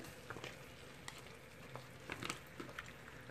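Drained tagliatelle tipped into a pan of sizzling sauce, a soft steady frying hiss with scattered light wet pats and clicks as the pasta drops in, close and fairly quiet.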